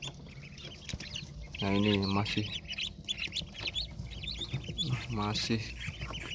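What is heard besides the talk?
freshly hatched hybrid ducklings peeping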